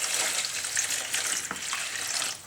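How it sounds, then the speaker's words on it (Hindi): Water is poured into a bowl of sugar with a steady splashing, trickling rush, close and fairly loud, and no voices. "तो इसमें थोड़ा सा पानी डाल लेंगे"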